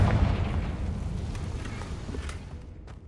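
A Confringo blasting spell explodes in the Hogwarts Legacy video game, giving a loud, broad boom at the start that rolls off into a rumbling decay with faint crackles over three seconds.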